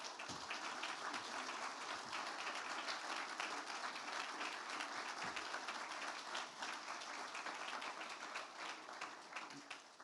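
Applause from a conference audience at an opening session honoring Gabon's transitional prime minister, a steady wash of many hands clapping, continuous and even throughout, heard from a moderate distance with no talking over it.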